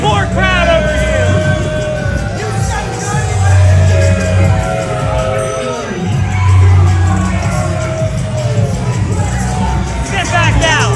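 A wrestling event crowd cheers and shouts in a loud, continuous roar of voices, with whoops and individual yells rising and falling near and far throughout.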